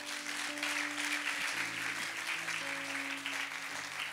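A church congregation applauding, dense steady clapping throughout, with sustained organ or keyboard tones underneath.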